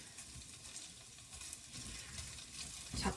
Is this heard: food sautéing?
yes